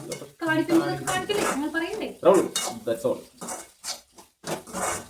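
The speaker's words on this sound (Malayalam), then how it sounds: "തേങ്ങ ഇട്ട് നന്നായിട്ട് മിക്സ് ചെയ്യട്ടോ" Grated coconut is stirred into a dish in a pan, a spoon scraping and clinking against the pan while someone talks over it.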